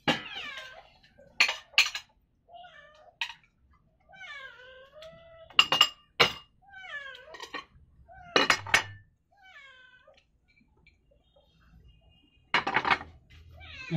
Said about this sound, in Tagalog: Iyak nang iyak yung aking alaga.